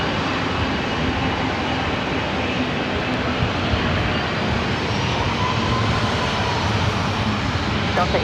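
KLM airliner on final approach at LAX, a steady broadband engine roar that holds loud and even throughout with no break.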